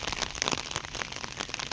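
Steady rain patters across a Thai construction site near water pumping work, a dense continuous hiss with scattered drop impacts and no talking.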